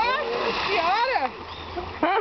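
Someone jumps into water with a sharp splash, heard close under lively voices, including a child's, that talk over and around it.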